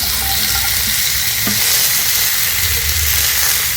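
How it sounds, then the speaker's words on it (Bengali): Vegetables such as carrot, tomato, cabbage and green chilli frying in a hot pan, a loud, dense, continuous sizzle heard up close with no talking. "এবার বাকি যে সমস্ত সবজিগুলো আছে দিয়ে দেব"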